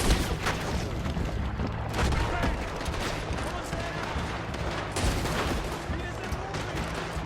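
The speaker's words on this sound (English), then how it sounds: "Just keep shooting!" Sustained gunfire rattles through a Red Dead Redemption 2 shootout, dense overlapping shots and bursts going off continuously and loudly for several seconds.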